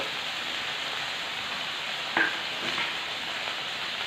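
Bitter gourd fries in oil in a frying pan with turmeric and salt, a soft steady sizzle throughout with a couple of brief stirring scrapes midway.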